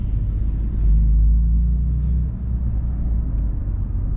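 A BMW M3 CS engine rumbles at low revs, swelling briefly louder, then dropping back to a calmer, quieter idle drone as the car switches into comfort mode.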